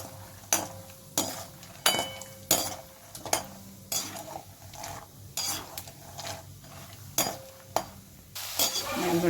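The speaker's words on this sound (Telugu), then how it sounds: "ఇప్పుడు కొన్ని పల్లీలు వేయించుకుందాం." Peanuts fry in oil, with a steady sizzle under repeated rhythmic metal-spoon scrapes and clinks against the pan, close and fairly loud.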